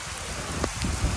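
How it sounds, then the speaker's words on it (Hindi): Heavy rain falling steadily in Mussoorie, a dense continuous hiss with a few louder drops, close and fairly quiet, no voices. "तो गाइस फाइनली बहुत अच्छी बारिश हो रही है।"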